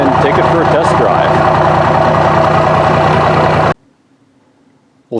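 A first-generation Cummins diesel engine idles while warming up, a loud, steady, rough rumble close by that stops abruptly near the end and is followed by near silence.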